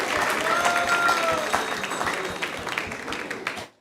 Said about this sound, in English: let's give a big round of applause to everyone who has joined us here.